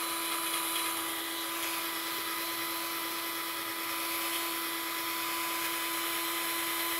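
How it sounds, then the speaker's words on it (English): A drill fitted with a 3M headlight restoration pad polishes a hazy plastic headlight lens, giving a steady high whine with a sustained tonal hum, close and unbroken. "using a drill like this, you don't want to stay in one spot"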